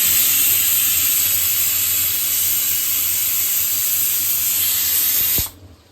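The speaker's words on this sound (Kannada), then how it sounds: "ಮಟನ್ ಸಾರು ಇನ್ನೊಂದು 3 ವಿಸಿಲ್ ಬಂದರೆ ಆಗೋಗುತ್ತೆ. 2 ವಿಸಿಲ್ ಬಂದಿದೆ" A pressure cooker cooking mutton curry lets off a loud, continuous steam whistle and hiss close by, which cuts off abruptly near the end.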